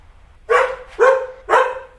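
A dog gives three loud, close, evenly spaced barks, each sharp and full, with quiet in between.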